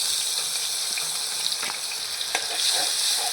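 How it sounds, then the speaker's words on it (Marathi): Onion sizzles in hot ghee in a pan, a close, steady frying hiss with a few faint crackles and pops over a brief stretch, with no voices. "दोन चमचे मी साजूक तूप घेतलेला आहे कांदा टाकून घेणार आहोत"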